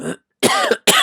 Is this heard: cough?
yes